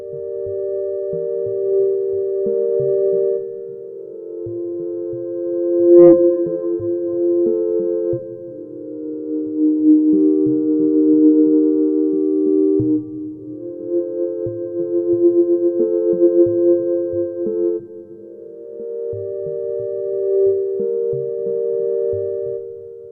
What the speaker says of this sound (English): I want to show you how you can create some ambient chords on the analog rhythm